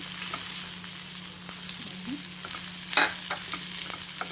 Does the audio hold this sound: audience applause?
no